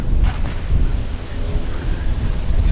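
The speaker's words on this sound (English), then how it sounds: "you may be able to hear it. Very windy." Strong wind gusting across an autumn garden beside a blackberry bed, a steady loud roar of buffeting air with rumbling low-end microphone noise throughout, no other clear sounds.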